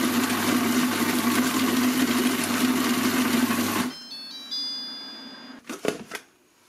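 Monsieur Cuisine food processor chopping hazelnuts and almonds, a loud steady whirring grind for several seconds that stops abruptly, followed by faint beeps and a few clattering knocks.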